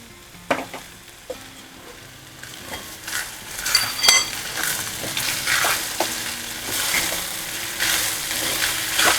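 Grated potato stirred with coarse peanut powder in a pan, a steady sizzle with repeated scraping and clinking strokes of the spoon against the metal, close and continuous, with no voices.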